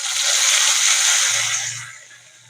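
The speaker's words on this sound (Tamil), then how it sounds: "இப்போ சட்னியில் தாளிச்சதை நம்ம ஊற்றிக்கலாம்" Hot mustard-seed tempering poured into groundnut chutney gives a loud, close sizzle that fades after a couple of seconds, ending in a faint low rumble.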